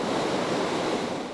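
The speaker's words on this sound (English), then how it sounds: "The Chattahoochee River roars through downtown Columbus" Whitewater of the Chattahoochee River rushes through downtown Columbus, a dense, steady roar filling the whole moment with no voices.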